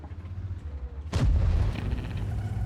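A tank gun fires once in World of Tanks, the T110E3 heavy tank shooting at a Z75: a single loud, deep boom breaking out over steady engine rumble, then a long rolling tail.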